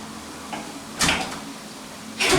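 A small child struggles to open a door at home, producing two short bursts of rattling and knocking, one at mid-clip and another at the end, with quiet room tone between.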